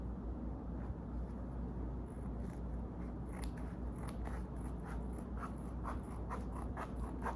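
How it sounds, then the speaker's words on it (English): Scissors cut through a folded peri-pad, giving a run of quick, faint crisp snipping and crunching strokes close by, starting partway through over a low steady background hum. "fold it back in half, and then I'm going to cut it into two pieces"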